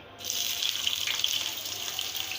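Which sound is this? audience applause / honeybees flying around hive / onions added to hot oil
onions added to hot oil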